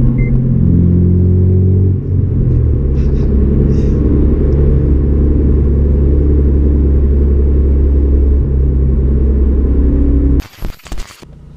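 A catless Honda Civic Si FA5 roars under hard acceleration, a loud, close, sustained engine drone holding strong for about ten seconds before cutting off abruptly into a few brief bumps and clatters.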